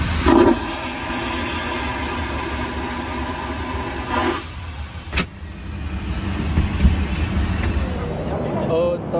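A vacuum toilet flushing in the lavatory of an Embraer E190-E2 airliner: a loud whooshing burst at the start and another a few seconds later, over steady cabin engine drone.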